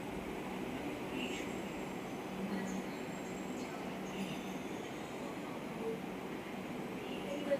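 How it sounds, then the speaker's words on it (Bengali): A metro train pulls into a station, a steady loud rumble of wheels and carriage noise filling the platform throughout, with faint squeals and clatter near the end. "এই যে একটা মেট্রো এসে গেল, এটা জোপা যাবে, এই মেট্রোটা এসে গেল।"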